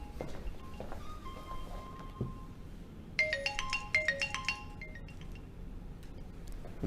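Phone ringing at an MMA event officials' orientation: a bright electronic ringtone of repeated chiming tones for about two seconds, with scattered clinks and room noise around it and no talking.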